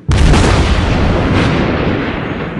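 A single heavy gun blast booms out and rolls into a long, loud rumbling decay, like a big naval cannon firing from a Soviet battleship, Lenin, in World of Warships Blitz.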